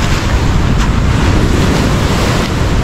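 Ocean waves at high tide at Piliw Beach in Llorente, Eastern Samar, wash in as a loud, constant roar of surf, with wind buffeting the microphone throughout.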